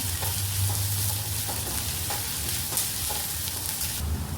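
Onion frying in a pan for karela bhaji, a steady dense sizzle with faint scrapes of stirring, close and continuous, with no talking.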